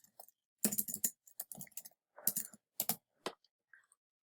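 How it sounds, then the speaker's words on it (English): Keys on a computer keyboard clack in quick, uneven bursts with brief pauses between them, close and isolated, with no voices. "my typing is not so great"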